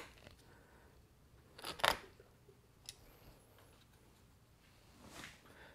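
Pruning shears snap through a branch on a tiger bark ficus bonsai, one sharp close cut followed by a fainter click and a soft rustle in a quiet room.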